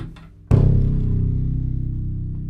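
A double bass's lowest bottom string plucked once, a deep booming low note that blooms loudly after a short quiet lead-in and rings on with a slow, steady decay, heard alone.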